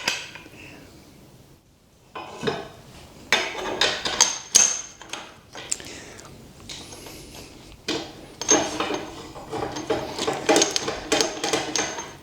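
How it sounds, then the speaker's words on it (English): A homemade extractor is worked with a spanner to pull a bush from a keyless drill chuck, producing a series of sharp metallic clicks, knocks and scraping clanks at close range, coming in irregular bursts with short pauses. "when I can't get the bush out, I use this extractor that I made"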